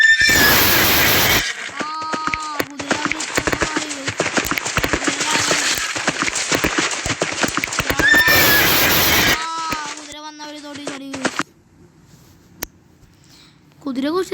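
Repeated loud whinnies from a horse in the Roblox game, a blocky Lego-style mount, come one after another amid busy game effects and scattered clatter, then the sound drops to quieter game ambience near the end.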